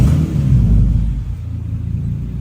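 A Toyota 2JZ engine fires up with a loud rumbling surge, then eases down into a steady, lower idle close by.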